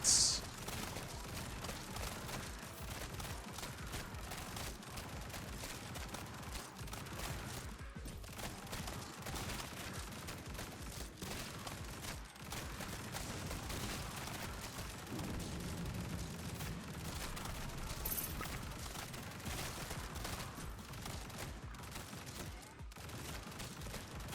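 Rapid weapon fire in the action roguelite Grind Survivors at about twelve shots a second, a dense, steady rattle of shots mixed with bursts and explosions running nonstop, with a voice talking over it at times.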